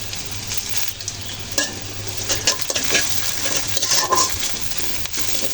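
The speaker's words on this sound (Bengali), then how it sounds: "আমি মশলাগুলো ভালো করে কষে নিচ্ছি" Ginger and garlic paste with spices sautéing in a pan for a boal fish bhuna, with steady sizzling broken by scraping stirs and light clinks of a spoon against the metal pan.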